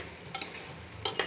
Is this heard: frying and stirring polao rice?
yes